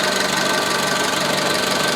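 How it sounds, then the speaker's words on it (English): 1997 Honda Civic engine idling with the radiator fan running, a steady close whirring hum with a faint knocking pulse and no talk. "I finally got the fan running on her."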